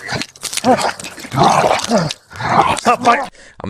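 Police dogs bark in sharp, repeated bursts amid loud shouting voices, the barks close and mixed in with the commotion.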